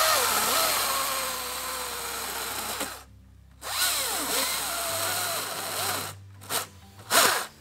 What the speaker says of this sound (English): so Julian can use his battery-driven chainsaw